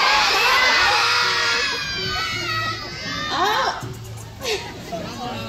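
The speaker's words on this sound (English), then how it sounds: "I want you to yell as loudly as you can. Get up, Chuck" A crowd of children yells loudly together as an audience, a dense sustained roar of voices that drifts into scattered shouts and cheers.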